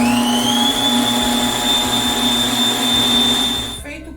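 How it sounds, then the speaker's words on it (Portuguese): Stand mixer beating cake batter made with margarine, sugar and egg, a loud continuous motor whir with a steady whine held throughout before cutting off near the end. "Eu vou deixar bater por mais uns 2 minutos para essa massa não ficar com cheiro de ovo"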